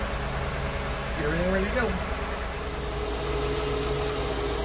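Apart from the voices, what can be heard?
boat inboard engine running up to operating temperature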